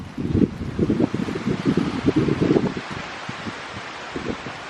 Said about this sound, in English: Watch that tree wave in the wind.